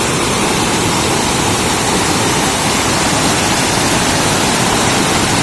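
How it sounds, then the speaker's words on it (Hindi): Torrential mountain stream swollen by heavy rainfall, a loud, dense, continuous roar of rushing floodwater filling the whole clip with no voices. "भयंकर गधेरा आ रहा है यहाँ पे।"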